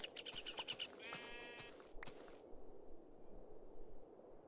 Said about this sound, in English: There's a lot of sheep around here.